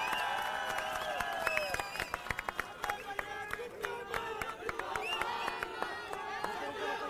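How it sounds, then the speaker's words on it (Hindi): A crowd at a political rally claps and cheers as a speaker arrives on stage, scattered sharp claps and shouts under music and a voice on a loudspeaker, moderately loud and continuous. "जोरदार तालियों से स्वागत"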